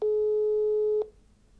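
Telephone line tone heard while calling the Paris metro operator RATP: a single steady electronic beep lasting about a second, then quiet line noise.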